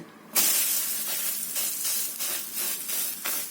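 Amritsari naan laid on a hot plain iron tawa gives a sudden loud sizzle that keeps hissing steadily, with faint pulsing swells as it cooks.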